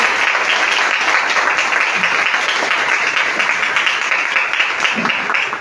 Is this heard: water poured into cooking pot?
no